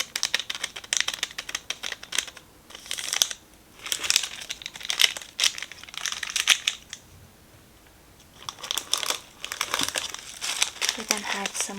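Packaging around Sakura shrimp cookies crinkles and rustles up close in several bursts, with short quiet gaps between them and soft speech alongside.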